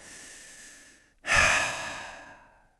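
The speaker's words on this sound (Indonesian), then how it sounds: "ayo kita tarik napas dalam-dalam bareng-bareng" A person draws in a long, deep breath through the nose, then releases it in a loud, airy sigh that fades out slowly, alone and close.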